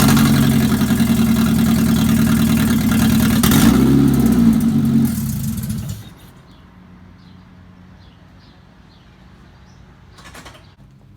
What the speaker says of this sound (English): Alright, so the engine starts.